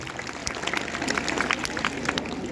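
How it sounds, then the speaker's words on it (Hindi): A faint, scattered patter of audience clapping rises at a school annual-function poetry gathering, heard from a distance as light, uneven claps with no voices over it. "अरे तालियां नहीं बजी, बजाओ एक बार दोनों हाथ ऊपर करके।"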